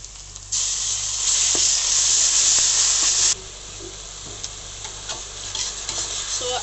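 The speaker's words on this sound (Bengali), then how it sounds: "আদা রসুনটা খুব ভালো করে কষিয়ে নিতে হবে" Onion, ginger and garlic fry in a pan with meat for biryani, giving a loud, close sizzling hiss that lasts a few seconds and then eases into quieter sizzling with scattered stirring scrapes.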